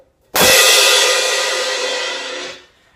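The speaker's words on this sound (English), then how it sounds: "I'll demonstrate one crash sound right here." A pair of crash cymbals is pushed together once, giving a loud, bright, close wash of shimmering noise that sustains for about two seconds before being cut off abruptly, with no voice over it.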